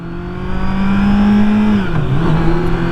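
A Kawasaki Z900 motorcycle engine pulls hard under acceleration, a loud, close, steady drone that climbs in pitch, dips briefly as if shifting gear, then rises again, with wind rush underneath.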